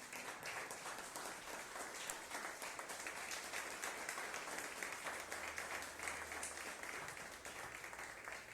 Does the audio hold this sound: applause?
yes